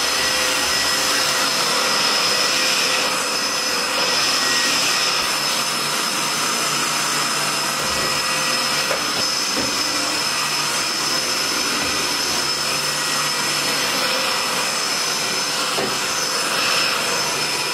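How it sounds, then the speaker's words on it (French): A vacuum cleaner runs continuously indoors in a home, a loud, steady whooshing whine close by with slight shifts in pitch as it moves, and no voices over it. "Donc là, je vais passer un petit peu l'aspirateur."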